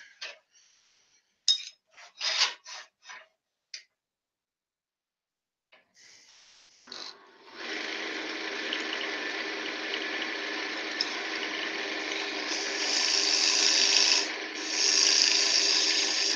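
A skew chisel cuts into wood spinning on a lathe in a home workshop, first a few short scraping bursts, then a long, loud, continuous shearing hiss that swells toward the end.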